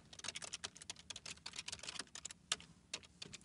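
Quick, light keystrokes on a computer keyboard, a dense run of crisp clicks at an uneven rhythm, close and clear with no talking.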